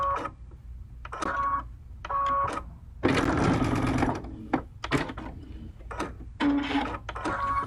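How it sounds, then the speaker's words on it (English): Sewing machine stitching a 1/4 inch mitered corner seam on folded fabric, heard as several short separate bursts of whirring with brief pauses between them, close and moderately loud, with no talking. "line everything up there, and now sew one more time"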